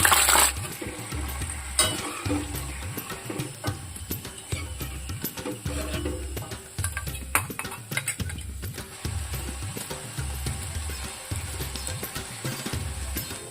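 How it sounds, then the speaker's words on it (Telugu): Cashew pakoda deep-frying in hot oil, a continuous close sizzle broken by rhythmic scraping and stirring of a ladle through the pan. "మోగుతుంది చూడండి, బాగా వేగినాయి"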